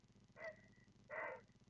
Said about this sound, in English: Herons sound like dogs almost.